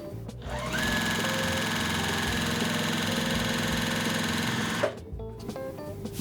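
A sewing machine hums and chatters in a fast, even stitch for about four seconds, joining quilt pieces into a diamond, then stops, followed by soft handling noises and a brief whir.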